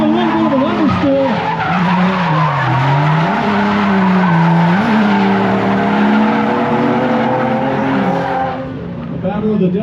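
Nissan 350Z and 370Z drift cars skidding together in a competition at Suika Circuit, a continuous loud tire squeal over engine roar that stays dense throughout and eases slightly near the end.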